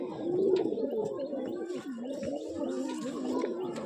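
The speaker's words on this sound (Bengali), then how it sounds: "খুবই সুন্দর কোয়ালিটির একটি পায়রা।" A pigeon coos close by in repeated low, throaty, warbling phrases that run continuously, with no talking over them.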